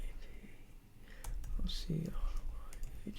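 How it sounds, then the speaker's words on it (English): A few soft, scattered clicks of typing on a computer keyboard, faint and close, set among quiet speech and room noise. "I'm going to come here and just type this in again"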